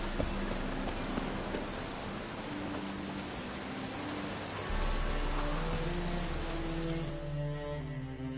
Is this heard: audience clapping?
no